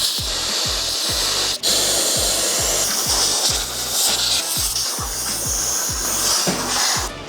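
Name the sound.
compressed air line blowing out metal swarf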